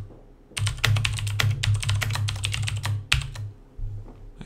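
Someone types a long passphrase on a computer keyboard in quick, close clicking bursts, with a short pause before a final flurry of keystrokes.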